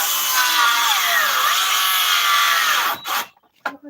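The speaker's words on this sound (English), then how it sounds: "The drill doesn't use that much." A cordless drill runs in one long whirring burst with a slight shift in pitch, then cuts out and leaves near silence broken by two short bursts.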